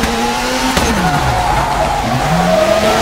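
A VW Polo R WRC in the WRC 4 video game at Rally Monte Carlo revs hard and slides through a handbrake hairpin, with tires squealing and engine pitch sweeping up and down, loud and continuous.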